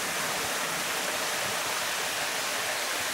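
A waterfall on a branch of Honey Creek, heard from above the valley as a steady, even wash of falling water, continuous and moderately faint with no other sounds.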